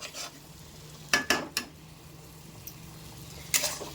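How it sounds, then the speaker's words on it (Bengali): Meat being braised and fried with spices in a pan on a home stove, a faint low sizzle under a few sharp spoon-against-pan clacks and scrapes. "আর এই যে মাংস কষাচ্ছি।"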